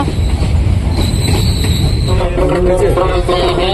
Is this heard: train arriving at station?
yes